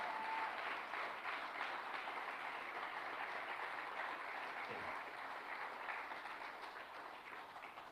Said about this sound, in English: A round of applause for Monte Frank.